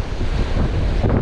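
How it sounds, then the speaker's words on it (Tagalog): Strong ocean waves wash against the De La Paz shore in Batangas City, a loud, close, continuous surf roar mixed with heavy wind buffeting on the microphone. "At medyo malakas yung alon."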